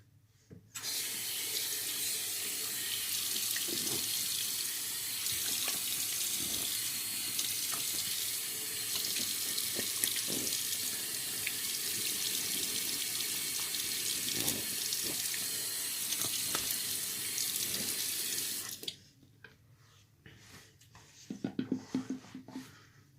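A bathroom faucet runs into a sink for about eighteen seconds of steady, close hissing flow, then shuts off, leaving faint splashes and drips as a face is rinsed.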